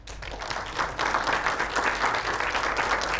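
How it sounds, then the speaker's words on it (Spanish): An auditorium audience applauds for a guest speaker at a lecture on superhero cinema, a dense, steady wash of many hands clapping that fills the space for a few seconds without talk. "Un aplauso para Andrés García."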